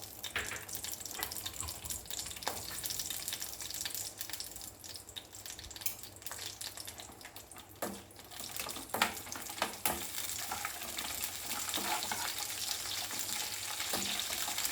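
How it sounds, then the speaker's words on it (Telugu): Cashews and raisins frying in ghee in a kadai give a steady, close crackling sizzle, with occasional scraping taps of a spoon against the pan; no one speaks. "జీడిపప్పులు కిస్మిస్లు వేయించుకుందాం."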